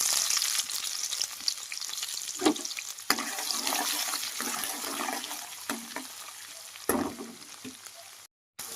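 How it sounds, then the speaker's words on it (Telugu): Onions and green chilies sizzle and crackle in hot oil, a steady hiss broken by scraping stirs of a spoon against the pan. "ఉల్లిపాయలను పచ్చిమిర్చి కూడా వేసి ఫ్రై చేసుకున్నాం"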